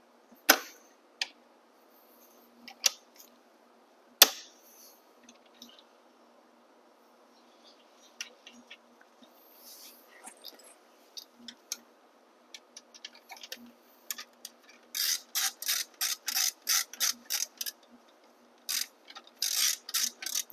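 A tool ratchets against the rear wheel axle bolt of a bike as it is tightened. Sharp, isolated clicks come first, then fast runs of close, crisp ticking in quick bursts.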